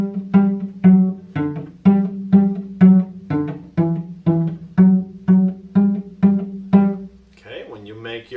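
Plucked cello playing the beginner tune Morning Dance: a steady rhythmic series of about fourteen low, resonant pizzicato notes, each decaying quickly, with faint talk starting at the end.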